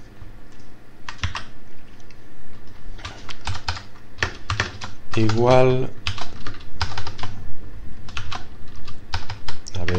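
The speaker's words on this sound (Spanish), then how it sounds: "a ver si acierto con el teclado inglés" Fast, loud bursts of typing on a computer keyboard with an English layout while coding a Qt interface, the keystrokes running in dense clusters with short gaps, and someone briefly speaking partway through.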